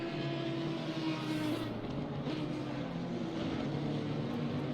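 In a racing video game, an Audi race car laps the Misano circuit, its engine a steady, fairly quiet drone with a brief shift in pitch partway through, no voices over it.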